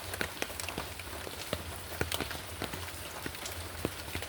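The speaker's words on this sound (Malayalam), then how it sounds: "മഴയുണ്ടേ" Steady rain falls with scattered sharper drop impacts ticking on a surface, fairly quiet and continuous, with no clear voices.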